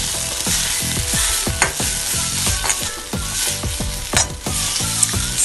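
Fish eggs sautéing in a little oil in a pan for a spicy fish egg thokku, with a steady loud sizzle and repeated scraping stirs of a spatula, close up and without talk.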